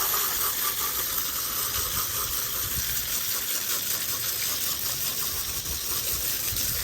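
A dirty car wheel gets a rinse from a steady, loud spray of water, a continuous broadband hiss and splatter that never lets up.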